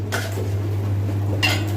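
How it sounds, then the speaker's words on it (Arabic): Spoon scraping twice around a pot of mahshi seasoning made with garlic, hot chili pepper, softened onion and tomato, two short separate strokes over a steady low kitchen hum. "هقلب التتبيله بتاعت المحشي"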